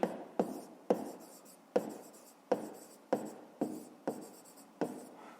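Someone writes out a Ukrainian fifth-grade maths exercise by hand: a run of about nine crisp, evenly spaced scratching strokes, close and clear, with no voices.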